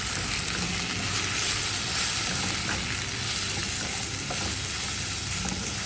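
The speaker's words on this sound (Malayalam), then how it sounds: "അതിനകത്തോട്ട് ഞാൻ ഉപ്പ്, മല്ലിപ്പൊടി, കുരുമുളക് പൊടി, ഗരം മസാലപ്പൊടി, മഞ്ഞൾപ്പൊടി അതും കൂടെ നമുക്ക് നന്നായിട്ട് വഴറ്റിയെടുക്കാം" Ginger-garlic paste sizzles in oil with salt, coriander, pepper, garam masala and turmeric powders over medium heat for a Kerala egg curry. The frying hiss is steady and dense, with only soft, indistinct stirring.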